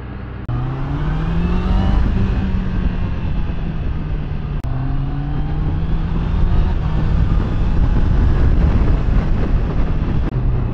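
A Honda CB650R E-Clutch motorcycle engine runs loud and close while riding, its rising and falling revs sweeping through gear changes over about ten seconds with no talking.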